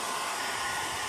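A hair dryer blows continuously at close range, a steady airy rush with an even, unbroken level and no voices over it.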